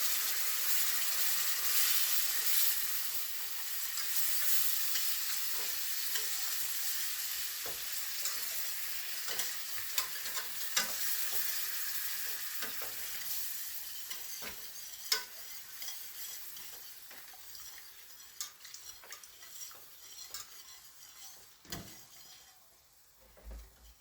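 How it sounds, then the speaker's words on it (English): Turkey wings fry in hot vegetable oil with a steady, close sizzle and crackle, a spoon stirring through the pan with occasional scrapes and knocks, the frying slowly easing toward the end. "Keep stirring it now."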